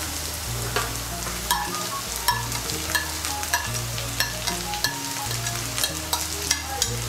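Chopped beans sizzling in oil with carrot for vegetable chire pulao, a constant close fry punctuated by regular clicks and scrapes of a spatula stirring the pan, with a low background hum.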